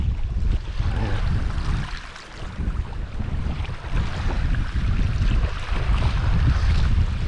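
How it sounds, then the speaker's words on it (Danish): Wind blows hard and steadily across the Limfjord in December, a loud rushing roar with buffeting on the microphone and a brief dip in strength before surging again. "sådan det blæser lidt"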